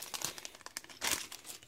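A plastic parts bag from a Cobi building kit for the Yakovlev Yak-3 crinkles close up in quick, uneven bursts, with a louder rustle near the middle and no talking.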